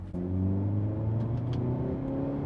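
A 2024 Hyundai Elantra N with a six-speed manual accelerates hard, its steady engine drone rising under load close by, with a few short sharp exhaust pops and crackles breaking through near the middle and end.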